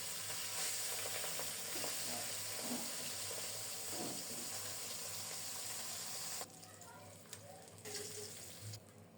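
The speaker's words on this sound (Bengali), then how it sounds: "আরও এক ব্যাস দিয়ে দিলাম এগুলিও ওই রকমে লাল লাল করে ভেজে নেবে" Steady sizzling of pabda fish frying in hot oil, loud and continuous, with the hiss briefly dropping before resuming.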